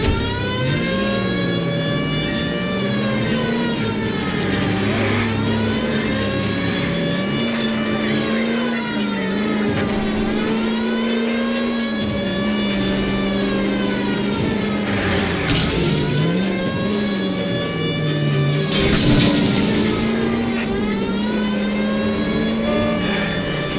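In L.A. Noire, a car engine rises and falls through repeated accelerations while driving, a steady mid-pitched drone swelling loud and near, with a siren-like wail running alongside throughout.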